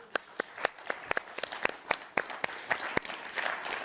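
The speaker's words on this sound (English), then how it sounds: "a round of applause for nuestra audiencia" A small audience claps for a live cooking demonstration by chef Victor Aguilera, with sparse, distinct individual hand claps in an uneven rhythm that grow denser toward the end; fairly quiet and without talk.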